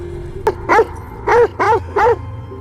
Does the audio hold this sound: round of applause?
no